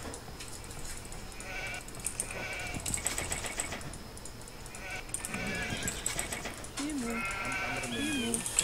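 In an Age of Empires II match, sheep bleat repeatedly amid a busy, dense game soundscape of clicks and clatter, layered under steady background noise.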